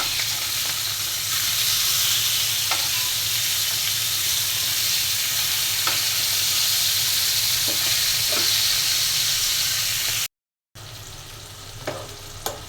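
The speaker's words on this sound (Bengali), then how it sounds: "সিম আলু আর টমেটোটা মশলার সাথে কিছুক্ষণ কষিয়ে নেব।" Beans, potato and tomato sauté with spices in a hot pan, giving a loud, continuous sizzle with a few stirring clicks. The frying breaks off briefly and then resumes.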